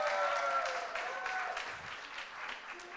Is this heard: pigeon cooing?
no